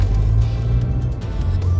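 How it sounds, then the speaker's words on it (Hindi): Traffic idling in a jam, a steady low rumble of car engines close by with a faint rise like a vehicle revving, continuous and without voices. "ट्रैफिक जैम है यहाँ पर"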